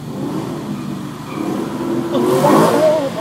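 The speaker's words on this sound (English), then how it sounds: "Look at that burnout." A Ford Mustang 5.0 spins its tires in a burnout, a steady close engine roar that swells louder and rises in pitch toward the end, with rough tire-scrub hiss on top.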